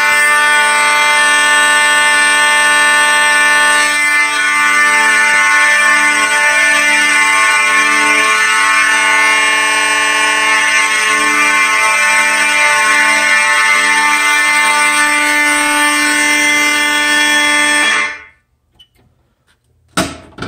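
Thorn B5 fire alarm sounder blaring a loud, steady electronic tone with dense harmonics, holding continuously for about eighteen seconds before cutting off abruptly into near silence.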